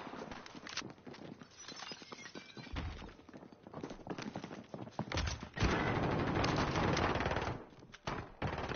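Rapid bursts of gunfire crackle through a Warzone match, automatic fire rattling in clusters with louder, denser volleys toward the end, moderately close and with no talk.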